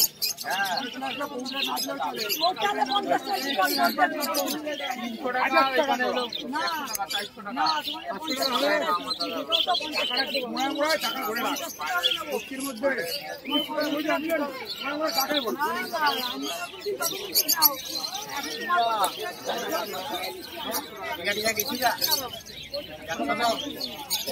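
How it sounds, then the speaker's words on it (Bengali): Pigeons coo and chirp at a village bird market in Birnagar, almost buried under constant nearby conversation and crowd chatter. "আজকে কিন্তু অজিতদার কাছে চলে এসেছি নতুন কিছু পায়রা দেখাবো বলে।"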